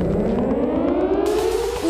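Air raid warning siren in Kyiv, a loud sustained wailing tone slowly rising in pitch, echoing across the city for about two seconds.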